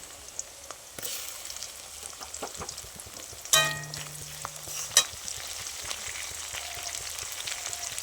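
Tomatoes go into a pan of lightly fried chopped onions and whole cumin in oil. A soft, steady sizzle runs under stirring scrapes, with a brief metallic clatter midway.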